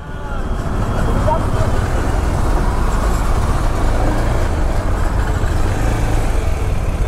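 Road traffic in a heavy jam on a Mumbai to Khed route, heard from a motorbike as a loud, continuous low rumble of engines and road noise filling the whole stretch.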